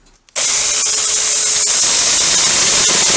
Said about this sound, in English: Don't think this saw's meant to cut PVC pipe like that